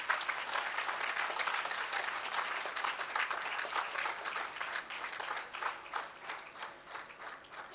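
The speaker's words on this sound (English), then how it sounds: "Can we have a huge round of applause for them?" Sustained applause from a graduation-day audience for the graduating textile design students at NIFT Bangalore's 2016 ceremony: dense, steady clapping from a large crowd that thins slightly toward the end.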